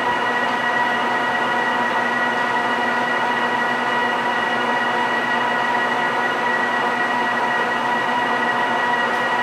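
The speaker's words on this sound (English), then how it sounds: "600 RPM. That's a nice chip. That's a Mitsubishi insert with an FP chip breaker." A lathe turning metal at 600 RPM with a Mitsubishi insert fitted with a PF chip breaker, giving a loud, constant droning whine with steady tonal hum, unbroken and close throughout.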